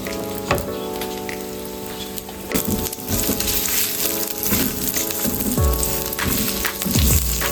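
Onions go into hot oil for green chili sambal eggs and sizzle with a steady, loud hiss and frying crackle, with stirring clatter and scrapes over music in the background.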